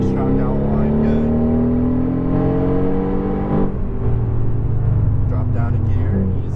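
Mercedes-AMG GT R accelerating on a racetrack, its engine a loud, steady in-car drone rising in pitch, then shifting to a lower note as a gear change comes, with an instructor talking over it.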